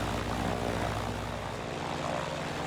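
Propeller engine of a Grumman F4F Wildcat in Microsoft Flight Simulator, a loud, steady droning roar with no pause throughout.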